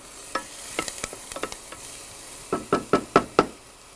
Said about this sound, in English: Move the onion around a little bit.